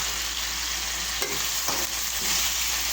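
Ginger sautéing in hot oil in a pan for chicken adobo, a dense, steady sizzle close by with a couple of brief stirring scrapes partway through, no voices.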